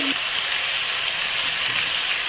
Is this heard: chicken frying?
yes